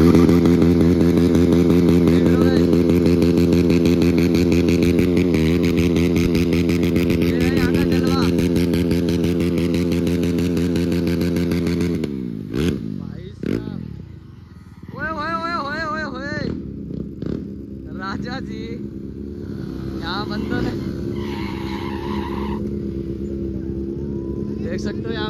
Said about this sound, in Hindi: वहां पे भी बंदे स्टार्ट करते हैं, बर्नआउट स्टार्ट है भाई।